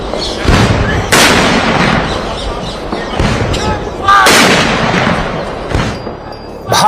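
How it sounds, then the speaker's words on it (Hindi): A 17-gun artillery salute at a state military funeral: heavy cannon booms go off a few seconds apart, each blast rumbling and echoing outdoors over crowd noise and voices. "भारतीय सेना ने 17 तोपों की सलामी देकर अपने पहले सीडीएस को आखिरी विदाई दी"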